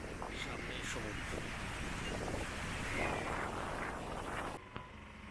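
Sea waves at Chandipur beach in Odisha, a continuous windy wash of surf, loud and close with heavy wind buffeting on the microphone, easing near the end.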